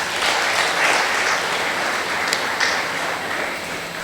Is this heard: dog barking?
no